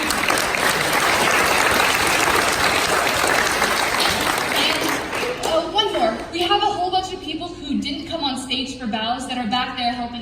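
Loud, dense applause from a school musical audience fills the first half, then fades into scattered clapping as voices talk over it.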